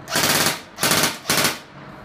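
Three quick bursts of rapid full-auto fire from a G&G airsoft rifle, each a fast mechanical rattle, close and loud with short gaps between.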